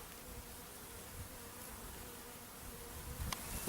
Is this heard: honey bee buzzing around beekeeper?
yes